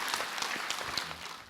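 Brief audience applause during a Buddhist monk's question-and-answer talk, a steady wash of many hands clapping at moderate level without speech.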